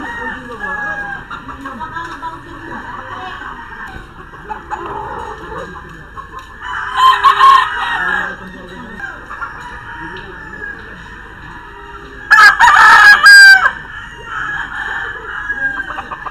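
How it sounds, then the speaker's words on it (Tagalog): Fighting roosters crow loudly nearby, with two long crows standing out over a steady background of clucking and other farm birds. "Tingnan nyo kung gaano kalupit ang mga manok"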